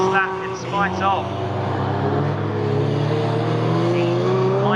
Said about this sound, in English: the mighty power of the Escort Cosworth WRC car